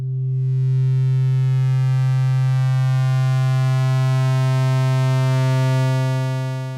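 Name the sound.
sine wave drone shaped by Eurorack vertical shaper module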